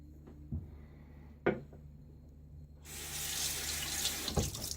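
Water starts gushing from a bathroom sink tap during a wet shave, a steady bright rush after a couple of small clicks and clunks, fairly close and alone without voices.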